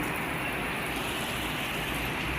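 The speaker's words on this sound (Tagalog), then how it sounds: "Bigla pong bumuhos ang malakas na ulan." Heavy rain pouring down on a September morning, a dense, even broadband hiss with a low rumbling undertone, steady and loud throughout with no voices.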